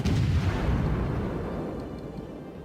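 A deep booming blast from ship guns firing high explosive shells at an aircraft carrier in a naval combat video game, one loud heavy report fading into a rumbling tail.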